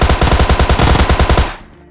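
Rapid automatic gunfire from a weapon in the mobile shooter game PUBG Mobile Lite, a loud, steady burst of about fifteen evenly spaced shots that stops abruptly and leaves a short fading tail.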